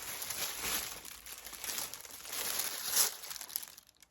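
Goyard paper wrapping from a St. Louis GM bag being unfolded, giving close, crisp crinkling and rustling in uneven bursts with one louder crackle near the end.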